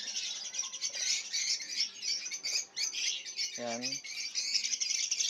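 A flock of caged masked lovebirds (personata) at a bird seller's keeps up dense, shrill chirping and squawking, loud and constant, while someone speaks briefly underneath.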